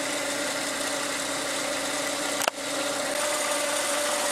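A Toyota Tarago engine idles steadily and a little high after its throttle body has been cleaned, a continuous close-up hum with one brief knock partway through.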